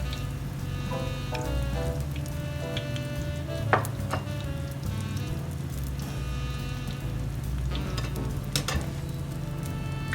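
Beer-battered onions frying in hot oil give a steady, close sizzle with crackling bubbles and occasional sharper pops, running continuously with no talk over it.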